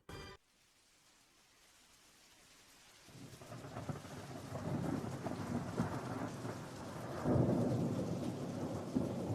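Rain shower sound effect in a children's stage play rises from near silence into steady, dense rainfall with rolling thunder, growing louder and peaking toward the end, with no voices.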